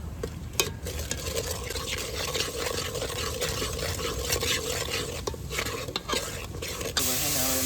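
Hot oil bubbling and sizzling steadily in a pan while fish dishes are cooked, a continuous close frying hiss with light stirring scrapes throughout.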